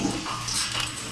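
Young XL American Bully puppies make a brief, soft whimper amid faint clinks and shuffling in a kennel.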